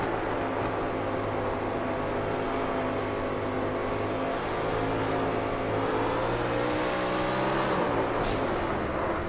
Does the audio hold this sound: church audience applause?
no